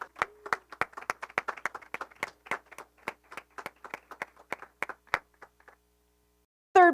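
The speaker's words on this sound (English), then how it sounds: "So we need to give him one more round of applause for both awards." Scattered audience clapping at a senior art awards ceremony, a moderate round of individual claps that thins out and stops, followed by silence and then a brief burst at the end.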